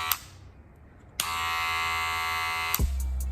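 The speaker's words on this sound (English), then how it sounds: "very powerful sounding clipper" A Wahl Magic Clip Metal Edition cordless hair clipper clicks on and runs with a steady, strong electric buzz, close and loud, then switches off with a click.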